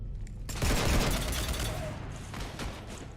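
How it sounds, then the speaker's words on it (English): A burst of Mass Effect gunfire strikes a ship during a Citadel DLC fight: a dense, rolling volley of rapid shots swells and fades, loud and close, with game sounds in the background. "You want to stop shooting up my ship?"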